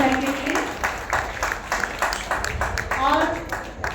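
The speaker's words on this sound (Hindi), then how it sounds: "जोरदार ताली हो जाए लिट्रो फैशन और यथार्थ हॉस्पिटल के लिए" An audience at a Women's Day celebration claps for Litro Fashion and Yatharth Hospital, a steady ripple of applause running the whole way while a host speaks over it.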